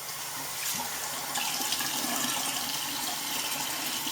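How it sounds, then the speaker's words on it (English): Tap water runs steadily into a bathroom sink, close and constant, with light splashes as a face is rinsed during a skincare routine. "I'm gonna go ahead and splash my face again"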